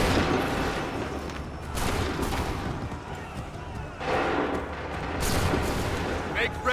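Musket volleys boom from a line of soldiers in Assassin's Creed III, loud heavy blasts rolling in waves amid constant battle noise, with shouted commands between the bursts.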